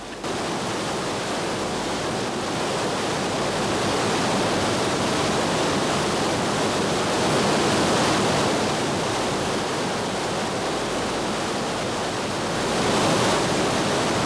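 Rapids on the Ganga rush in a loud, dense, unbroken roar of churning whitewater, close and continuous, swelling slightly at moments, with no voices.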